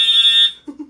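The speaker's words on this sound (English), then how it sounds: "I just set off the fire alarm because I heated up my cookie too much." A fire alarm set off by an overheated cookie, a loud piercing electronic tone that sounds continuously then stops, followed by a brief low voice.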